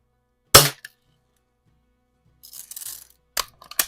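A Daisy wide-body BB gun fires with a crisp, close snap, followed by scattered rustling and handling noises, then a couple more sharp clicks or impacts near the end.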